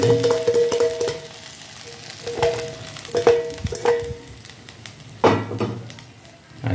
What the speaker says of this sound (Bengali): আমি এখন এটা নামিয়ে ছোঁটা এইভাবে দিয়ে দেবো